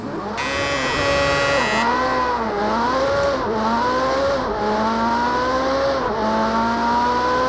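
A Ferrari Special A lapping the Bannochbrae circuit in Project CARS 2, its engine revving up and down through gear changes with a faint tyre squeal, loud and steady with no talking.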